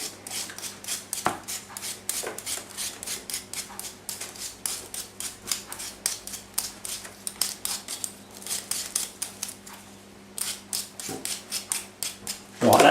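Scraping strokes of a peeler taking the outer skin off a potato for leek and potato soup, a steady run of short, close, repeated rasps with brief pauses and a faint background hum.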